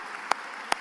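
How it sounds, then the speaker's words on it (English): Two sharp, isolated hand claps ring out a beat apart at an outdoor Biafra independence day gathering, crowd members applauding themselves, with no steady applause between them. "Please, if you're one of those that have donated here, give your give a clap for yourself, please."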